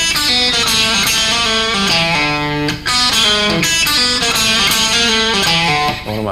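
Blues guitar played with a slide, gliding between sustained notes and ringing chords over an open string, loud and close with no voices.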